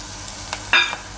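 Chopped onion frying in oil in a pan, with carrots about to go in, for a Gujarati matka Maggi dish. A short, close sizzle with one sharp stir or scrape partway through. No one speaks.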